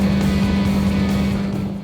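Selva 600 Endeavour motorboat engine running at high RPM, a loud, steady droning roar with a strong constant hum and no pauses throughout.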